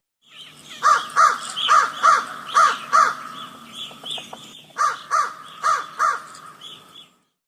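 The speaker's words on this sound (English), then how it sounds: "crow," A crow caws about ten times in two rhythmic bursts, six harsh calls followed by four more after a short pause. The calls are fairly close and clear, with no voices.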